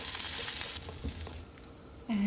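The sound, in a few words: paneer pieces frying and being tossed in a pan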